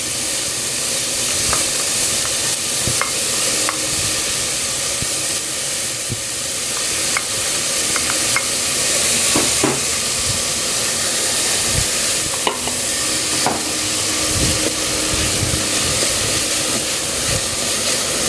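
Chopped onion and a clove of minced garlic softening in a pan for barbecue-sauced ribs, with a steady, close hiss of sizzling and occasional scrapes and clinks of stirring throughout, no one talking.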